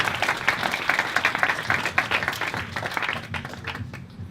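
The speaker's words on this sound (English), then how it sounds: "Let's give him a big round of applause" Wedding guests at a golf club reception applaud the best man, a dense wash of clapping that fades slightly toward the end, with murmured voices underneath.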